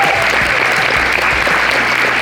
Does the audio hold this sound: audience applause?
yes